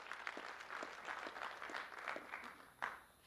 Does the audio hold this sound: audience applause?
yes